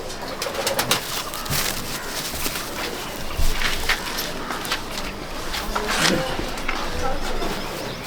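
Pigeons in a breeder's dowbaz loft in Malda district, a soft bed of layered cooing and fluttering with occasional sharper noises and low background voices.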